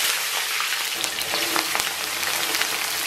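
Chopped scallion, ginger and garlic hit warm oil in a wok, giving a dense, continuous crackling sizzle with small popping spatters close by.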